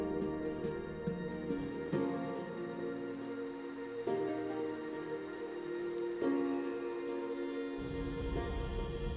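Rain falls in a desert, a steady patter of drops on the ground, mixed with sustained tonal sounds and a few heavier surges, with no voices.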